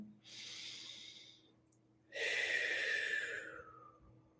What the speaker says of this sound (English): breathe in through the nose and slowly out through the mouth